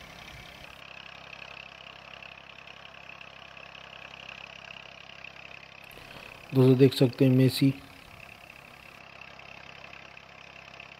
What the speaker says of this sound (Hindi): आज दिखाएंगे हम आपको ट्रैक्टर के ज़रिए टरबाइन को कैसे चलाया जाता है।